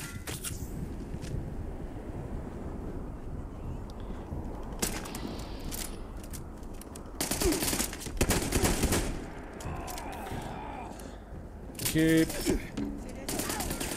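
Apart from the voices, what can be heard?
shotgun fire in video game Fallout 76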